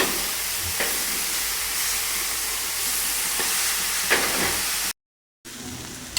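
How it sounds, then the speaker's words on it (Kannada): Grated beetroot sizzles steadily in a hot pan, a continuous hiss broken by occasional clicks of a spoon stirring, then a brief silence before the frying resumes. "ಇದು ಹಸಿ ವಾಸನೆ ಹೋಗೋವರೆಗೆ ಚೆನ್ನಾಗಿ ಫ್ರೈ ಮಾಡ್ಕೊಳ್ಳೋಣ"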